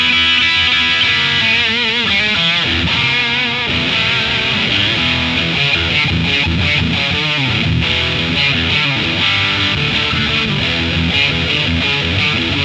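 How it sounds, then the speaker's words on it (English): Heavily distorted electric guitar through an Ammoon Pockmon multi-effects unit, overdrive stacked into distortion, plays loud, sustained chords and bends, thick and saturated, with no voices over it. "I just want to see if I can stack the overdrive into the... You read my mind. Distortion."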